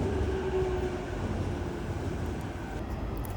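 A low, steady rumble of a moving train in Japan, heading toward Yokohama, heard from inside the carriage, with a constant hum and no talking.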